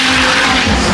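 A 1000-horsepower BMW 135 drift car at a Formula Drift event roars past with sustained tire squeal and screeching skid, loud and close for a continuous second.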